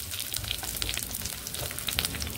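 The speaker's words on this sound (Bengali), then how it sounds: "এখানে এই তেলে আমি বিনসগুলোকে ভেজে নেব।" Beans frying in hot oil after potatoes and carrots were deep-fried, giving a steady, close sizzle with small bursts of crackle and no talk.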